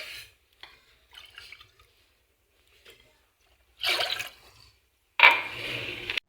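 Water poured into a pan for a home cough and cold remedy made with fennel, two short splashing bursts of pouring near the end after quieter trickles and drips, close and alone.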